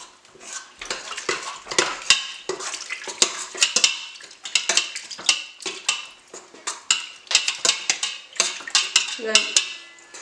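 A utensil clinks and scrapes against a bowl in quick, irregular strokes as yeast and water are stirred for ciabatta dough, close by and steady for several seconds.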